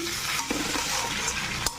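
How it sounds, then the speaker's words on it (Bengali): Potato pieces fry with nigella seeds and dried red chillies, a close, steady sizzle with quick scraping stirs and a couple of sharp utensil taps against the pan. "কালো জিরে দিয়ে শুকনো লঙ্কা দিয়ে আলু ভাজা করছি"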